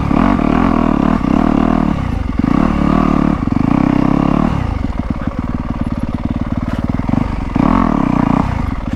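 A Yamaha YZ250F dirt bike rides a trail, its engine loud and close, rising and falling through throttle blips with a rapid pulsing idle between revs and occasional rattly clatter.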